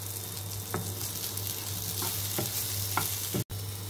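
Brinjal pieces fry in a pan with a steady close sizzle, broken by a few soft spatula stirs and a brief cut near the end, over a faint constant hum.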